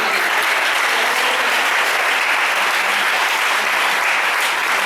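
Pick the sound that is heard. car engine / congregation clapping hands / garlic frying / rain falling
congregation clapping hands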